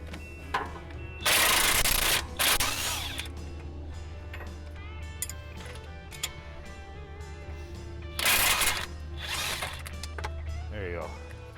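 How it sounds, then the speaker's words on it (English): A ratcheting wrench and 21 mm socket loosening the front strut bolts on a Dodge Caravan, giving rapid clicking ratchet bursts and metallic clanks over a steady background hum, heard close. "next we're gonna undo the bolts to hold the strut here"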